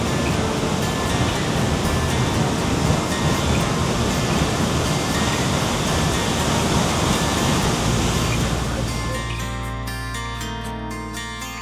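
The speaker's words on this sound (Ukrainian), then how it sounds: "Водоспад дуже класний, масивний." A massive waterfall in a misty New Zealand forest roars as a dense, continuous rush of falling water, loud and steady throughout, easing slightly near the end.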